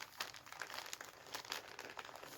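Wrapping paper from an unwrapped gift is crumpled and crinkled close by in quick, irregular bursts of crackling rustle, quiet and continuous without talk.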